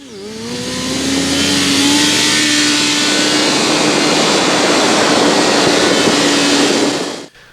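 A motorcycle engine revs hard and holds a high, steady roar while the front wheel comes down from a wheelie, loud and close, then cuts off abruptly at the end.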